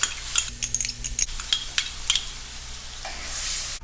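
A utensil stirs pork in a pan, with scattered metallic clinks and scraping over a soft, steady sizzle. No one speaks.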